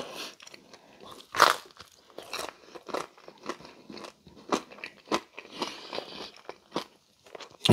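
Close-up crunchy bites and chewing of a Pizza Hut Melt, a loud crisp bite followed by a steady run of smaller crunches and mouth sounds, with no talking.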